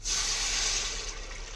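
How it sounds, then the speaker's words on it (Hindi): Water pours steadily into an egg and potato curry being cooked in a pan, a continuous close, fairly loud rushing hiss with no talking. "अब आपने क्या करना है आपने इसमें डालना है पानी"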